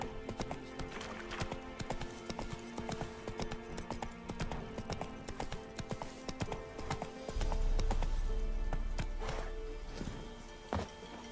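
Geralt's horse Roach from the video game The Witcher 3 walks with steady, rhythmic clip-clopping hooves, with a brief snort or whinny and a louder rumble of movement near the end.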